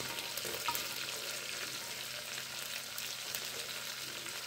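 Finely chopped onion, one medium-sized, fries in a pan for butter dal fry, giving a steady, soft sizzle with a few faint stirring scrapes, heard close and alone at low volume.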